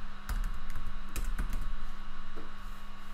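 Computer keyboard typing in quick irregular bursts of clicks over a steady electrical hum, close and moderately loud, tapering off toward the end.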